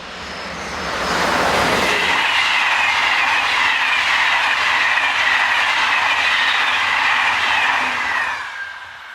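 A northbound train hauled by French electric locomotive BB 7281 roars past, loud and near, with a sustained rushing rumble and squealing wheel noise that swells quickly and fades at the end.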